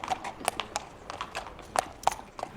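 A racehorse's hooves clip-clop on a stable yard in a loose, uneven rhythm of sharp knocks, fairly close, with no voices.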